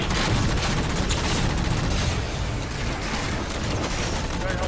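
Dense, continuous gunfire in Halo 4 co-op on Legendary, a loud wall of rapid shots and explosions with no letup across the whole span.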